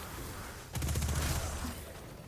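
Rapid automatic gunfire in Destiny 2, a fast burst of shots starting abruptly after a quiet lead-in and rattling for about a second before trailing off, fairly faint.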